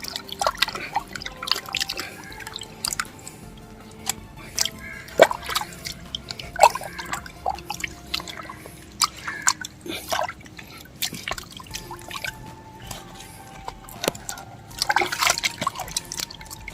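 Water dripping and splashing while a fish head is washed for curry, irregular close drips and small trickles scattered across a quiet background, alone without talk.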